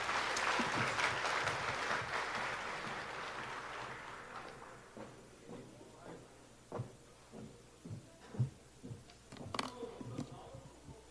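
The audience at a nuclear safety regulation conference applauds after a policy presentation, a full burst of clapping that fades over several seconds into scattered thumps and handling noises.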